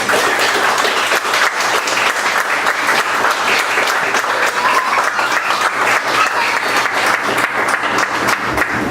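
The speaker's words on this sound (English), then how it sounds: "So everyone give up a huge round of applause for Tim Wick." Loud, dense applause from a comedy audience welcoming a stand-up comedian, sustained and even across the whole stretch with scattered individual claps standing out.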